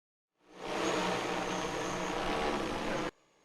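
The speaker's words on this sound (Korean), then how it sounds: "드론 한 대가 사과나무 위를 연신 날아다니며 흰 가루를 뿌립니다" A steady broadband whirring drone, loud and constant for about three seconds, then cutting off abruptly; no voices.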